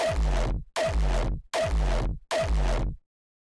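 Four evenly spaced distorted electronic kick drums with boosted bass and dispersed, gritty sustain, each hit loud and full with a sweeping tail, playing alone without speech.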